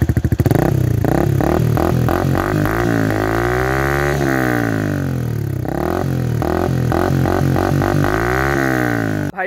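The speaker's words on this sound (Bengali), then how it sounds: "ভাই এটা হচ্ছে ভাই তাগড়া সাউন্ড উইথ ডিবি ক্লার।" A motorcycle with a new aftermarket exhaust and dB killer fitted revs hard and loudly up close, throttle blips and sustained rising-and-falling engine sweeps repeating through the stretch.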